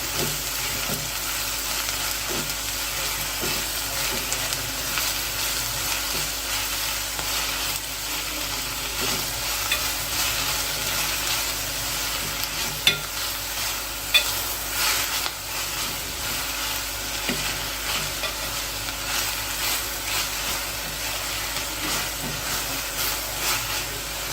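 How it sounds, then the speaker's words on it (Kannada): Leafy greens frying in a pan while being stirred, a steady loud sizzle and hiss throughout with occasional soft scrapes and taps of the spoon; no talking. "ಸೊಪ್ಪನ್ನ ಈಗ ಸ್ವಲ್ಪ ಕುರ್ಕೋತಾ ಇದ್ದೀನಿ"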